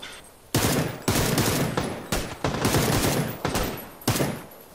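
Bursts of automatic gunfire in the battle-royale game PUBG, several loud, close volleys of rapid shots separated by short pauses, with no talk over them.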